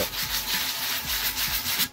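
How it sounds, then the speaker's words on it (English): A shelf board is hand sanded, the rough rubbing strokes close and loud, repeating in a steady back-and-forth rhythm with no talk. "I just wanted to hand sand it, because this is an easy build for medium skilled."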